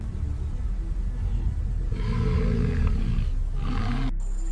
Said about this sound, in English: Both lions vocalize together, a behavior observed during social bonding and communication.